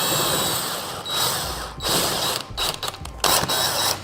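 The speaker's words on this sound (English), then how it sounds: "then we'll go ahead and put the 4 big bolts in to start" A hand ratchet clicks rapidly in uneven bursts while driving bolts into a seat backrest, close and fairly loud, with brief pauses between runs of ratcheting.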